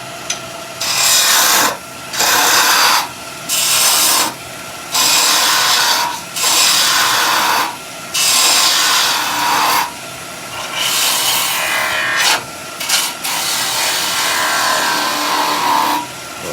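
A wood lathe spins a small piece for a nativity scene while a tiny bowl gouge roughs it out, giving repeated scraping, rasping bursts in a loose rhythm, loud and close, with short pauses between passes.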